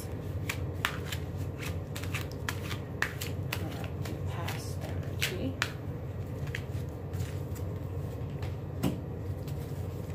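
Tarot cards are shuffled at close range during a reading, a continuous stretch of rapid papery riffles and slaps over a dense background, with no clear speech.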